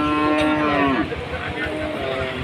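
A Sahiwal breed calf at a cattle market in Rustampur, Rajshahi gives one loud, close, drawn-out moo lasting about a second, followed by quieter lowing.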